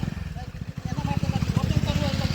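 A two-wheeler motorcycle engine idling in the open at a bird sanctuary in Diu, a steady low throbbing putter close by, with people talking over it.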